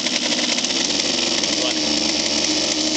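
Small pull-start engine running steadily at idle after a choked start, a continuous buzzing drone with a fast mechanical flutter, close and loud throughout.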